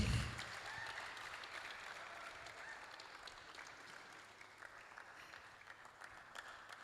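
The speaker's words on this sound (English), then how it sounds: "with a resounding round of applause, please make welcome Pastor Dr. Emmanuel Eyigbe" Welcoming applause from an audience at a live students' entrepreneurship summit, steady broadband clapping that swells at the start and carries on evenly, fairly distant and unbroken by talk.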